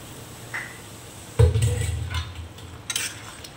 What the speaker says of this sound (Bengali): এই যে ভাজা রাখা মাছগুলো দিয়ে দিব